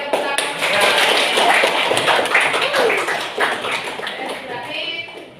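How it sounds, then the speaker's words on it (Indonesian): A classroom of students clapping their hands together in a rapid, dense burst of claps that swells and then tapers off, loud and close, with some voices mixed in. "Oke, tepuk tangan."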